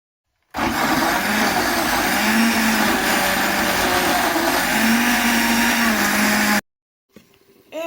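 A blender whirs loudly and steadily for about six seconds mixing red pepper, chili and garlic, its pitch wavering slightly, then cuts off abruptly, followed by brief quiet handling noise.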